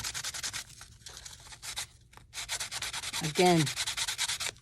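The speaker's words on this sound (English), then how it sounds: "sand them down" Small wooden pieces of a handmade toy truck being sanded by hand, a rapid rhythmic back-and-forth scratching with brief pauses, close and steady, with a short spoken word partway through.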